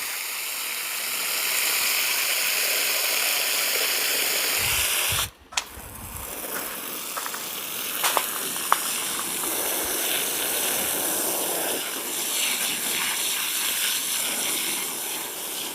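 Water pours steadily into holes dug in garden soil, a continuous rushing hiss that cuts out briefly, then resumes with small clicks and knocks.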